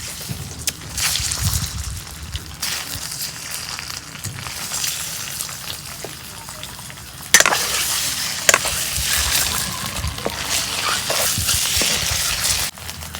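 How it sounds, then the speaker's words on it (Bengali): Eggs frying in oil spiced with turmeric, dried chilli flakes and salt, a moderate sizzling hiss broken by a few sharp clatters of a spatula against the pan. "ডিম ভাজা হয়েছে, এখন ডিম নামে নিই"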